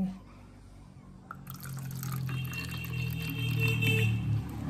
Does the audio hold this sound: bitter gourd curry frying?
no